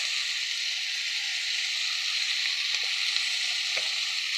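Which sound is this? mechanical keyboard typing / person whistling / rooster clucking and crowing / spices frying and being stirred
spices frying and being stirred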